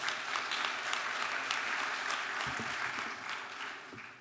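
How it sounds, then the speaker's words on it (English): Audience applause at a university honors convocation and awards ceremony, a steady dense roar of many hands clapping throughout, gradually fading toward the end. "Round of applause for Strata Education Network"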